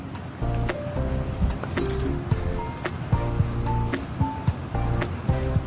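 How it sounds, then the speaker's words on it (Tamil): Tamarind is stirred into a sautéed garlic chutney mixture in a pan, with repeated metallic clinks and scrapes of a spoon against the pan over a soft background hiss. "புளி சேர்த்துட்டு இதை நல்லா கிளறி விட்டுக்கிறோங்க."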